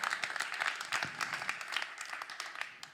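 A small audience applauds with moderate, scattered clapping at a press conference for a combat sports event, fairly steady for a few seconds.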